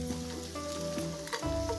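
Buffalo jerky (sukuti) frying in a pan for buff chowmein, a close, steady sizzle with stirring sounds and faint tonal hum in the background, no talking.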